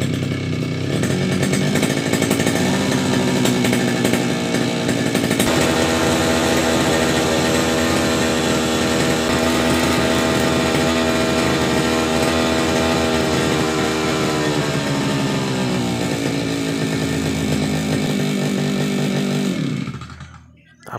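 A Kawasaki TD40 grass cutter engine runs loud and close at a steady high-revving drone, its pitch wavering slightly, before cutting off abruptly at the end.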